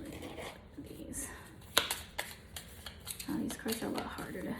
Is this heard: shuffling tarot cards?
yes